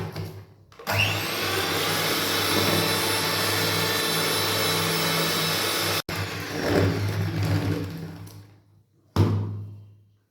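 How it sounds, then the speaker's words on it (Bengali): A blender whirs steadily as it grinds dry cake ingredients for a chocolate and fruit cake, a loud continuous motor drone that cuts off abruptly, restarts in a short burst, stops, then runs briefly again, with no talking. "তারপরে আমি ব্লেন্ডারটা অন করবো।"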